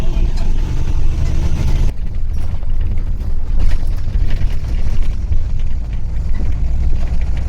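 A red MSRTC Lalpari state transport bus engine drones loudly and steadily as the bus pulls away, a low rumbling roar heard from inside the cabin, with a voice speaking over it.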